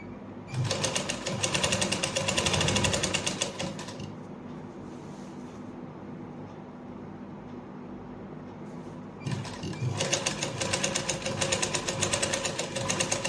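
A sewing machine stitches a neckline onto a suit in close, rapid bursts, running steadily for about four seconds, pausing to a low hum, then resuming fast and loud near the end.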